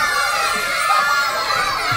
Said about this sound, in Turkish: Bir bağırın bakayım taraftarlar.